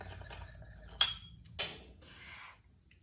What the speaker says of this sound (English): Just gonna take a spoon and mix that all together.